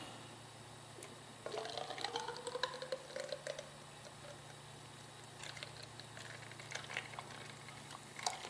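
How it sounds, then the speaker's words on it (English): Automatic transmission fluid from a 2000 Acura 3.2 TL drains through a funnel into the car, a faint gurgling, trickling flow with intermittent bubbling glugs over a steady low hum. "we'll just let the funnel finish draining down"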